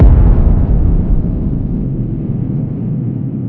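A deep, rumbling blast starts loud and slowly fades into a low, dying roar, with no voices present.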